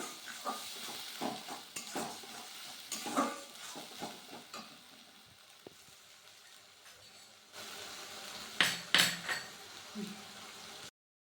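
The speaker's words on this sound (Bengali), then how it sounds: "পেঁয়াজটা দিয়ে একটু আমি হালকা ভেজে নিব।" Onions frying lightly in a pan for an egg curry, with soft sizzling under repeated sharp scrapes and clinks of a spatula stirring against the pan, close up.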